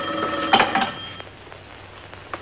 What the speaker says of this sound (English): I think I better answer that phone.